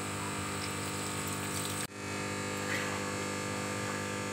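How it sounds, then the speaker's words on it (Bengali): Water pours steadily into a cooking pan of fried potatoes and cooked-down spices for a soybean curry. The rush is continuous and fairly close, with a brief break partway through and no talking. "এবার আমি জল দিয়ে দিচ্ছি।"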